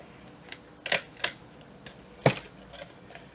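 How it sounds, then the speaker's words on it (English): A stapler clicks several times as it fastens material to a homemade bed for an SCX10 RC truck. The sharp, close snaps come in a short irregular sequence over quiet background. "I am simply going to staple it so it stays for me."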